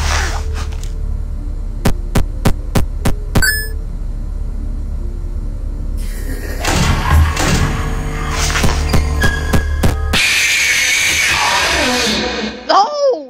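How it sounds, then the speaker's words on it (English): Static fuzz hum from a video game, a steady low electrical drone with throbbing pulses, sharp clicks and a shift to brighter crackling noise near the end, with a voice talking over it. "How is it possible to hear Ballora over the fuzz of the Torchica?"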